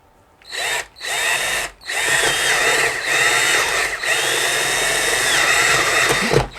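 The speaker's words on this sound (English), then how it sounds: "I'm using a 3/8 inch bit to make this hole." A power drill fitted with a 3/8 inch bit bores a hole during model train layout work for Lionel action accessories, whining steadily and loudly in several bursts with brief pauses, no voices.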